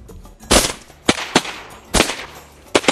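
Shotgun blasts fired at incoming pintail ducks on a hunt in Argentina, several loud, sharp close reports in an irregular volley over about three seconds, with no talking.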